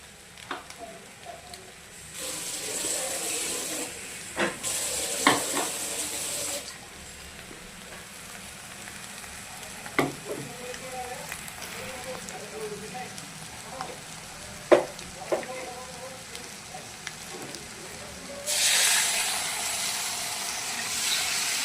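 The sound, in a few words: poppy seed paste frying and sizzling in a pan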